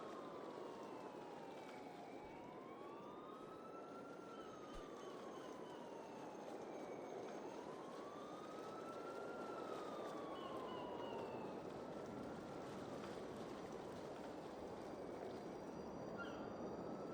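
Police car and ambulance sirens wailing in GTA IV, rising and falling sweeps repeating every few seconds at a steady distance over a constant rushing background, with no talk.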